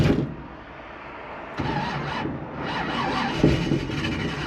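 A big-block car with a four-speed manual gearbox rumbles as gas is given, its engine noise swelling and surging irregularly after a quieter start, close and fairly loud, without clear speech.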